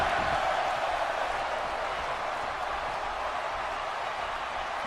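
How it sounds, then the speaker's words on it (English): In the WWE 2K18 wrestling video game, an arena crowd keeps up a steady, loud, dense roar of applause and cheering after an NXT match, with no distinct voices. "The crowd giving both these men a standing ovation, telling them to fight forever."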